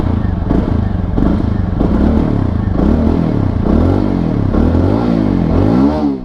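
A Apache motorcycle's exhaust rumbles close and loud, its throbbing engine note rising and falling as the throttle is blipped.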